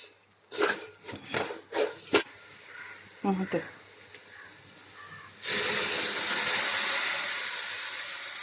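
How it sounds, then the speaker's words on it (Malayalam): Tomato paste hits a hot pan for tomato rice and breaks into a loud, steady sizzle that continues to the end, after a few seconds of someone talking. "ആ തക്കാളി നമുക്കിതിലേക്ക് ചേർത്ത് കൊടുക്കാം"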